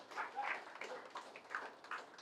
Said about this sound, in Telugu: ఒకసారి గట్టిగా క్లాప్స్ తెలియజేసుకుందాం.